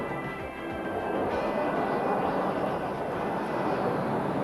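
A dual-role two-seat F-15 fighter jet gives off a steady, broad roar that holds even and loud throughout, with no voices over it.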